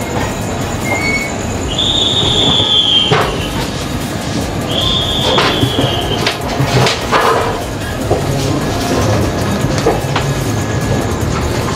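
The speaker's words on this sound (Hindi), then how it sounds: "बगल में हमारे खड़ी है पुणे हावड़ा एक्सप्रेस" Train at a railway station beside the Pune Howrah Express, with loud steady rumble, repeated high wheel squeals and occasional clanks running throughout.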